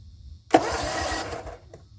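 A Gravely 34z zero-turn mower engine cranks and catches, a sudden loud burst settling into a steady running roar for about a second before cutting back down, with a quieter background hum.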